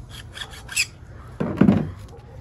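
Electrical tape peeling off the windings of a welder during a teardown, two short bursts of rasping, tearing sound close by, the second louder and longer, with no talking.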